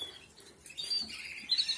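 Pet birds in a home aviary chirping, with thin, high tweets scattered through a short stretch, fairly faint and close, with no talking.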